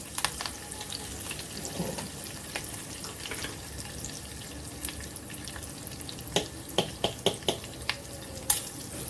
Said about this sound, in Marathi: कढीपत्ता घातले की ती उडते जराशी काळजी घ्यायची